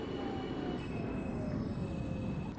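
A subway train in the OpenBve train simulator pulls into DeKalb station in the snow, a steady rumble of wheels with a thin metallic squeal and faint whine running over it as it slows.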